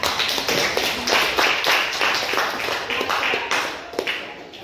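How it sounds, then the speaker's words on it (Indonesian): A small group claps together at a school coaching session, a short burst of rapid close-up clapping that gradually thins out and ends with a few last claps. "kita beri aplaus dulu biar bersemangat"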